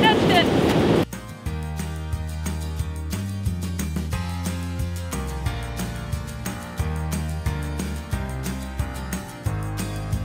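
Pacific Ocean waves wash against the shore in a steady, loud surf roar heard nearby with wind, briefly preceded by a different noisy sound.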